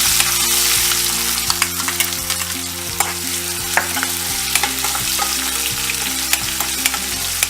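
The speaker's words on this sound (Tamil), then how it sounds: "இப்போ வெங்காயம் போட்டு நல்லா வதக்கிக்கலாம்" Onions sautéing in a pan after mustard seeds and chillies, a loud, close, continuous sizzle with frequent scraping stirs over a steady low hum.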